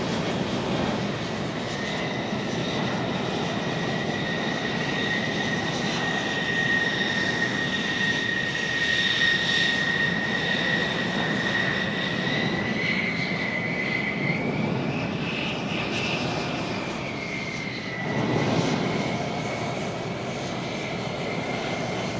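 Loud, continuous roar of F-16 fighter jets passing overhead at Tucson International Airport, the engine tone shifting in pitch as the planes fly by one after another.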